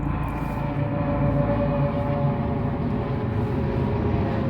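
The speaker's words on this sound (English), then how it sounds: "And we have a visit of a helicopter." A helicopter flies overhead outdoors, a steady, fairly distant droning rumble with a faint whine that holds constant throughout.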